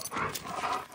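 A protective Rottweiler barks sharply at night, with harsh, loud bursts close to the microphone in quick succession over about a second.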